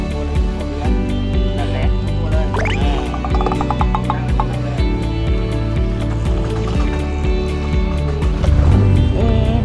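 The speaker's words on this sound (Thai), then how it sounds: "เรากำลังนั่งเรือหางยาวไปบ้านโกไลท์กันค่ะ" Longtail boat motoring on the Chao Phraya River in Thailand, its engine a steady loud drone with rapid rhythmic knocking throughout, water rushing beneath and brief faint voices.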